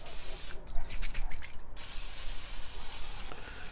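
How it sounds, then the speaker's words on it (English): Pam cooking spray misted onto the grate of an Akorn kamado grill in two short hissing bursts, a longer spray followed by a brief second one, close and clear over quiet background noise. "I'm going to spray some Pam"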